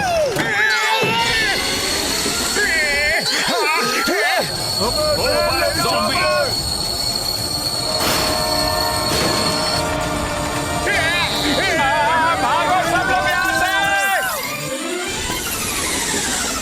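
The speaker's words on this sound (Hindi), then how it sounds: "डॉक्टर झटका, ट्रेन रुक गई है।" A cartoon train brakes to a stop with long, shrill, wavering wheel squeals over a rumbling, rattling rail bed. Voices break in at moments.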